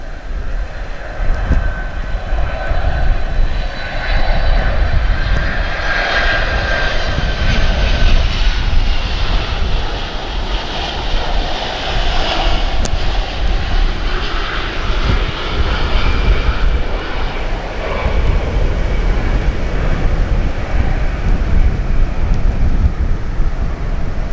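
An aircraft engine drones steadily at East Midlands Airport, a loud, continuous roar with a faint whine that holds for over twenty seconds without a break.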